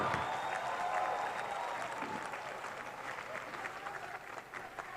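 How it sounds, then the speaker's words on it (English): A hospital's 25th anniversary celebration audience breaks into sustained applause, a broad wash of clapping that slowly fades, with a faint tone lingering early on. "Can we have a huge round of applause for the energy that they have?"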